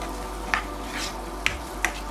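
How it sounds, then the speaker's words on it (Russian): Potatoes fry in a pan under a constant soft sizzle while a utensil stirs them, with three sharp scraping clicks against the pan. "перемешиваем картофель"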